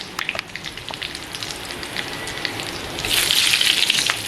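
Lentil fritters (bora) fry in hot oil with a steady, moderate sizzle and scattered pops and crackles, growing louder and denser near the end.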